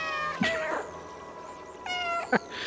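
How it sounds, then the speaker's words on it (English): A cat meows twice in the video game Stray, each meow sharp and fairly loud over a quiet game soundtrack, the second after a short gap. "That's your meow button."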